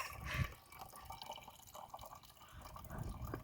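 Water trickles and drips from a mineral water filter, soft irregular drops over a faint wet background, with two slightly louder splashy moments near the start and end.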